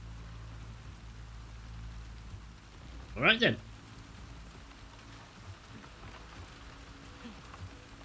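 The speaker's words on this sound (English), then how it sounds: "The rain tonight is strong, visibility poor" Heavy rain falling at night in The Last of Us Part II, a steady, even wash of rainfall on surfaces under a brief spoken remark partway through.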